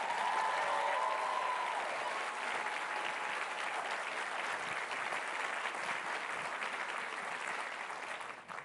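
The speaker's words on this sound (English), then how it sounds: "Now that's worthy of another round of applause." An audience applauds at NASA's reveal of the first James Webb Space Telescope images, a loud, dense wash of clapping that holds steady for several seconds, then tapers off.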